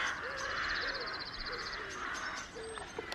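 Crows caw repeatedly from nearby in the countryside beside a narrow lane in Devon, several harsh calls spread across a few seconds over steady outdoor background noise.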